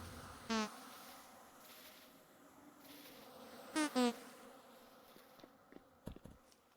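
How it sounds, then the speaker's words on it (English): A swarm of angry bees in the video game Vintage Story hums in a low continuous drone, with a few sharp buzzing bursts rising close by and fading between them. "I got a bunch of bees mad at me."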